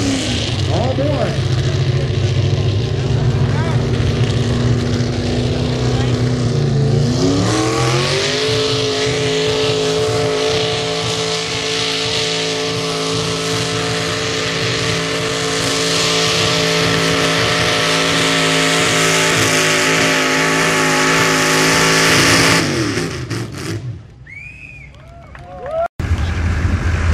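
A Chevrolet pulling truck roars under full load at a county fair truck and tractor pull, its engine screaming steadily, climbing in pitch as it revs, then dropping off near the end amid announcer-style talk.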